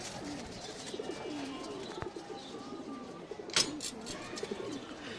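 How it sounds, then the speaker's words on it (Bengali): Pigeons coo softly in a loft, one of them with a watery eye; the low, rolling coos repeat faintly over a quiet background, broken once by a sharp click and a brief rustle. "এই যে একটা কবুতর এটার চোখে পানি দেখা যাচ্ছে ওই যে কবুতরটা"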